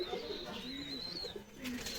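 Pigeons coo softly in a loft, a low, gentle, somewhat distant murmur, with faint higher chirps and background noise mixed in.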